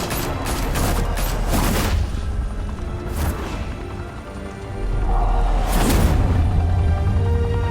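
Gunfire in a Batman video game: dense, loud bursts of shots and booms layered under a busy, rumbling game soundscape, with heavy volleys near the start and again after a brief lull.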